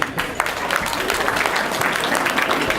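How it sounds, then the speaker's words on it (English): An awards-night audience claps, a dense steady ovation of many hands filling the hall, with some voices mixed faintly underneath. "please give a warm round of applause for our other dignitaries in the house this evening"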